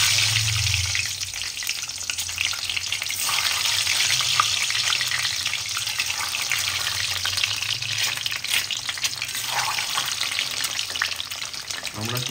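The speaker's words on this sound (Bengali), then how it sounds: "তো আমরা এখন ডিমগুলোকে হালকা করে ভেজে নিচ্ছি" Duck eggs frying lightly in a pan of hot oil with green chillies, a dense, steady sizzle running throughout with occasional stirring scrapes, close and fairly loud.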